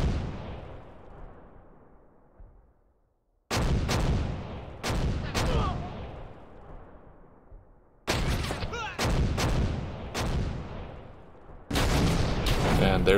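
Mortar and artillery shells striking in a war video game, several clusters of sharp booming impacts in quick succession, each trailing off in a long rumbling decay, loud and close with no talk.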